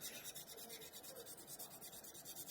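Steady, continuous rasping of 320 to 400 grit sandpaper rubbed back and forth over a hard quarter-scale Hulk sculpture, close by, with a gentle repeating rhythm and no talking.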